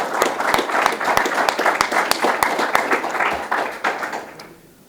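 A small roomful of people gives a short round of applause, sparse individual claps close by that build briefly and then fade out toward silence.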